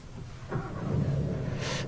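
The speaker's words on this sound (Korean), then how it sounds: "디젤 모델 치고는 초기 시동에 그렇게 많이 거슬리는 소음은 아닙니다" A Volkswagen Tiguan 2.0 TDI diesel engine turns over at the push of a start button, settling into a low, moderately loud idle rumble within a second.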